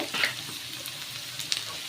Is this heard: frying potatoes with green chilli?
yes